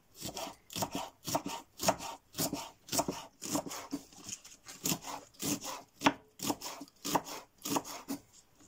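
A knife chops rapidly and rhythmically on a board, about fifteen crisp even strokes cutting through tough green cabbage leaves, close up.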